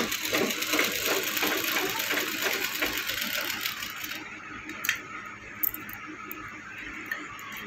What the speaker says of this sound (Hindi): इसको हम पट्टी के ऊपर सिलाई लगा लेते हैं।